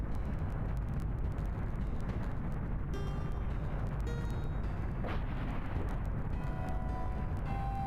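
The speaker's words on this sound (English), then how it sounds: "I bet I can use my fireball to blow the bomb up" In the Golden Sun: Dark Dawn video game a fireball sets off a bomb, a dense booming blast with crackling debris that rumbles on without a break, with small chiming game effects over it.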